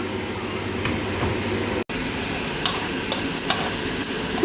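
Leafy greens cooking in a pan give a steady, close sizzle and frying crackle, with light stirring scrapes throughout and a momentary break partway through.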